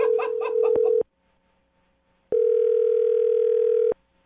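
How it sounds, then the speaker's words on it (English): A telephone dial tone sounds after a number is dialed, a loud steady tone for about a second, then a pause, then a second long steady tone of about one and a half seconds, with laughter over the first one. "I just dialed the phone number."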